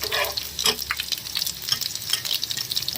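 Asafoetida, cumin and red chili sizzle in hot oil with browned garlic for a tempering poured over chickpea, bathua and spinach greens, a close, crackling fry with stirring scrapes and irregular spitting pops, without speech.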